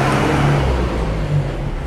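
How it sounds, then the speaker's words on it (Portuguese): A truck passes along a street, a low, steady engine rumble with traffic noise that holds for about two seconds at a fairly close, loud level. "Deixa o caminhão passar."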